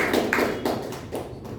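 Toastmasters club members give a round of applause, a brief burst of clapping with uneven taps and thuds from a small group, close and fairly loud.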